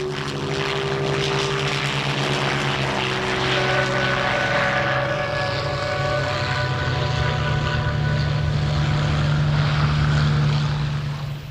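A Hawker Hurricane, the WWII Royal Air Force monoplane fighter, drones with its propeller engine as a loud, continuous roar. Steady tonal hum and shifting pitch suggest a pass overhead, with no talk.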